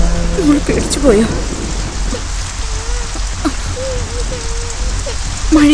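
Steady rain pours in a movie scene, a dense hiss filling the background beneath a voice speaking over it.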